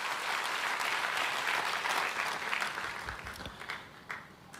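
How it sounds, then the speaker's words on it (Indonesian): A church congregation gives an extended round of applause for the praise and worship team, a loud, thick crowd clapping that gradually thins and fades toward the end. "Boleh tepuk tangannya di extend buat tim Praise and Worship."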